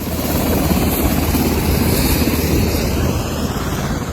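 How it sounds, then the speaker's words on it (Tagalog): Philippine Air Force Black Hawk helicopter landing with relief goods in a typhoon-hit mountain village, a loud, close, continuous rotor roar with rapid blade chop throughout. "Sa paglapag ng Black Hawk helicopter ng Philippine Air Force, nagtulungan ang mga residente sa paghakot ng mga relief goods."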